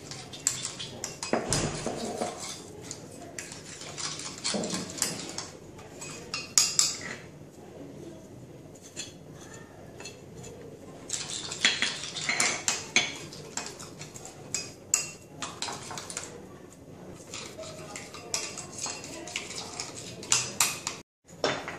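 Fougasse dough ingredients, including flour and black pepper, are mixed in a bowl with a utensil, producing repeated close clinks, taps and scraping knocks in an irregular rhythm with brief pauses and no talking.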